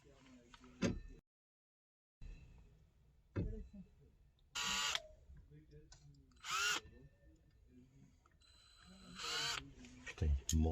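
Power drill with a worn bit driving screws in an old camper: several short, whining bursts with pauses between, close and loud, while someone talks between runs.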